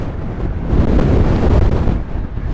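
Strong gusting wind buffets the microphone on a golf course during a storm, a loud, continuous roar swelling and easing without a break.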